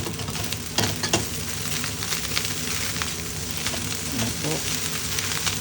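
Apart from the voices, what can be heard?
egg fried rice sizzling while frying in a pan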